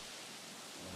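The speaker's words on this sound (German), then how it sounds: "Oh, Regen. Also regnet." Video game rain in Jurassic World Evolution hisses steadily and densely with a low rumble of thunder underneath, a continuous storm wash with no voices.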